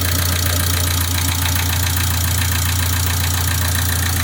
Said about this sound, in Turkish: Araç biraz çalışsın.